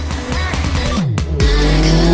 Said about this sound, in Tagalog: A twist of the throttle rewards riders with crisp throttle response and addictive intake and exhaust sounds, delivering a thrilling growl as rev climbs.